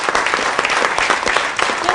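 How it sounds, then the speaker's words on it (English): An audience at a university athletics hall of fame ceremony breaks into applause, a dense, lively patter of many hands clapping at close range that stays steady throughout. "can we give a round of applause to Paul Madison?"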